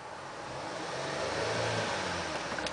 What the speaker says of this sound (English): I'm going to rev the engine.